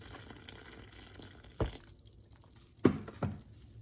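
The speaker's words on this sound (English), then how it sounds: "So just keep pouring water in there until it all dissolves." Water is poured over a compressed coco coir brick in a container, giving a low steady splashing trickle with a few short sloshing bursts near the end.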